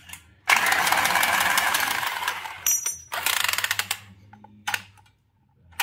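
A Milwaukee power tool, used by a plumber fitting copper pipework, whirs loudly for about two seconds, then stops and gives a shorter rattling run, followed by quieter handling clatter.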